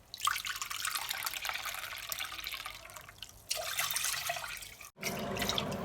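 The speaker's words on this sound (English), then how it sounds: "add in 3 cups of water" Water is poured from a cup into a cooking vessel for semolina kesari, three splashing pours in a row separated by short breaks, close and clear.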